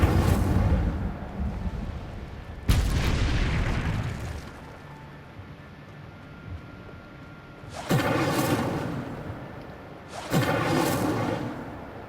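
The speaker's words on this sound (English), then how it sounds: "Incendio!" The Incendio fire spell goes off in a Harry Potter video game as several heavy whooshing fire bursts, each roaring loudly for a second or two, separated by quieter stretches.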